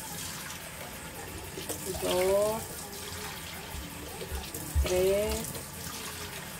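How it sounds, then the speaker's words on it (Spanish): Cups of water poured into a pot of rice on a home stove, two splashing pours arriving a few seconds apart over steady background noise, with a man counting aloud in Spanish. "Ahorita le vamos a poner las 6 tazas de agua."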